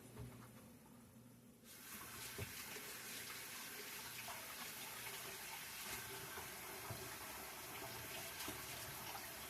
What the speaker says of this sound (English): Let me wash my hands and I'll be right back with you.